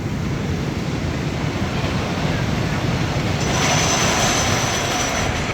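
A roller coaster train rumbles past with a broad, continuous roar, growing slightly brighter and louder toward the end.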